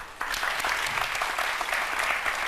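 Dense audience applause fills a hall after a singer's performance on a televised music show, steady and loud from start to finish with no voices standing out.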